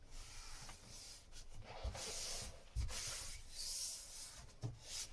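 A sanding block rubbed by hand over a surface on a Shetland boat project, giving soft, continuous back-and-forth hissing strokes, close and quiet, with a few duller bumps and no voices.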